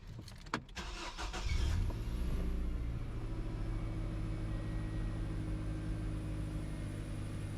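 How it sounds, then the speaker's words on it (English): A 4-cylinder Nissan Frontier pickup engine cranks briefly and catches, then settles into a steady, even idle that carries on loud and close to the end, with no voices. "We'll go ahead and start it up now and make sure."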